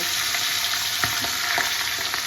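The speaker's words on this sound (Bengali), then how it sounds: "এবার আমি মাছের মাথাগুলো ভেজে নেব" Fish heads frying in hot oil give a dense, continuous crackling sizzle, close and fairly loud, with a few soft knocks from the pan.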